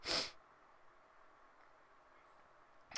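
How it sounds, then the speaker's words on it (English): A single sharp, close sniff at the start, followed by near silence and a brief breathy sound at the very end. "I'm sorry for the sniffing."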